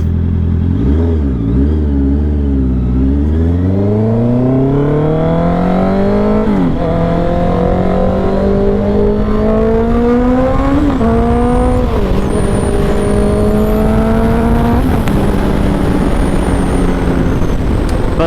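A new motorcycle engine is heard while riding, loud and close throughout, its pitch climbing through repeated shifts and accelerations, with wind rushing over it.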